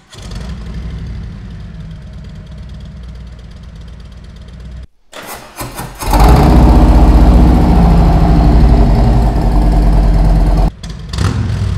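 Truck diesel engine fitted with 50 cal injectors idles loudly and steadily, dipping briefly near the five-second mark before a fuller, louder rumble takes over and holds to the end, with no talking.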